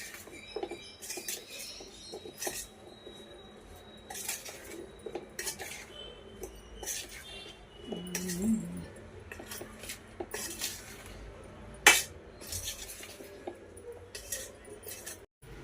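A utensil stirs amla pickle with lemon juice in a pot, making repeated light metallic clinks and scrapes at an uneven rhythm, with one sharper clink standing out near the end.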